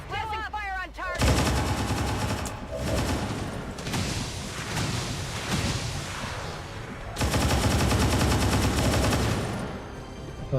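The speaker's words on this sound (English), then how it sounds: "I want to suppress that thing so it doesn't get to shoot missiles on us" Sustained suppressive gunfire in the video game XCOM 2: dense, loud bursts of automatic fire in long continuous stretches, with a brief pause partway through and a short quieter lead-in at the start.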